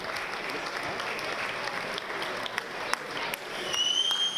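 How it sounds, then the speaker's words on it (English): Audience applause at a ball fills the room steadily for several seconds, broadband clapping holding even and swelling slightly louder toward the end, with a faint voice or whistle near the close. "give yourselves a big round of applause"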